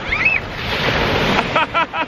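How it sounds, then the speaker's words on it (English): Boat wake waves rush and wash steadily onto the shore, a broad noisy surge with some wind buffeting and brief faint tonal bits near the end. "You're gonna get this boat sending some big waves down here now."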